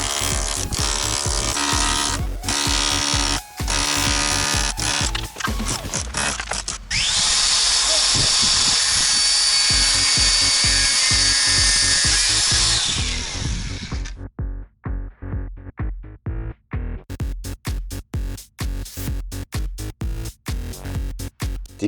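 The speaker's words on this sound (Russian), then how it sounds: "А перфоратором выдолбил часть перемычки." Rotary hammer chiselling out part of a lintel in a expanded-clay concrete block house: loud, close rapid hammering in long bursts, a steady high whine midway, then short repeated jabs near the end.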